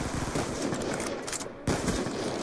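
Sniper rifle fire in Call of Duty: Black Ops 2 gun game, heard as a rapid burst of loud, close gunshots and game effects with no talk.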